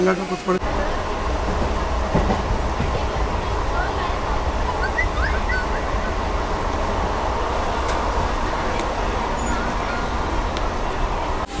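A crowded Mysuru–Bengaluru MEMU train runs near Byadarahalli station with a steady, low rumble and faint wheel clatter throughout, with voices of passengers murmuring over it.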